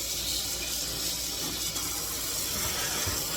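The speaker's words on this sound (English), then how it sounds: "A little bit more warm water." Warm water pours steadily into a cast iron pan while it is being cleaned, a continuous close hissing splash with no talk over it.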